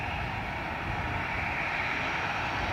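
A Ryanair airliner on approach to Dublin Airport gives off a steady, even engine roar, with a constant broadband rumble and a hissing upper band lasting throughout, no voices present.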